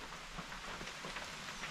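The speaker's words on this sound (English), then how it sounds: "it's raining, isn't it?" Steady rain falling outdoors by a lake, a soft continuous hiss with faint scattered droplet patter, fairly quiet and without any talking.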